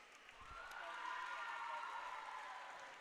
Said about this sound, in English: Gets good applause for the crowd